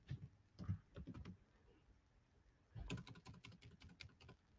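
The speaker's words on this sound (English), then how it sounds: "Typing." Quiet bursts of rapid keyboard typing, two short runs of clicky keystrokes separated by a brief pause, close and soft.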